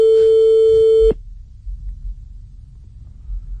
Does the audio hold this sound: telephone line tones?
yes